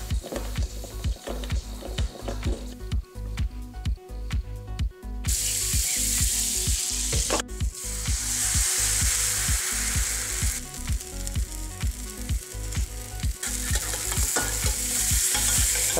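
Cheese-and-ham pancakes sizzle loudly in a hot frying pan, one of them burnt, with a steady crackling fry and intermittent scraping and stirring throughout; no one speaks.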